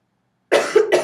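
A single close, sharp cough bursts out of silence, followed a moment later by a second shorter cough or throat-clearing sound, loud and dry with no speech.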